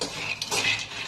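Peanuts roast in a pan while a metal spoon stirs them, making brief, close scraping and clinking sounds against the pan over a faint background hiss.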